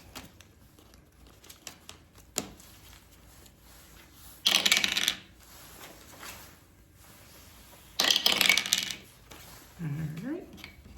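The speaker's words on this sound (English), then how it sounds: "Let me shuffle the money a little bit because I do have a 5 in here." Paper money bills shuffled and riffled in two loud bursts of rustling, separated by quieter handling noises, with a voice heard briefly near the end.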